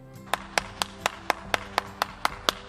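Rhythmic hand clapping during an online children's Sunday school session, about a dozen evenly spaced crisp claps over soft background music.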